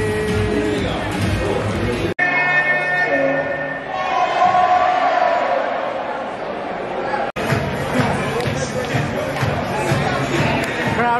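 Large crowd at Yankee Stadium roaring and cheering in sustained waves, loud and close, with a dense hubbub of voices throughout and two brief dropouts.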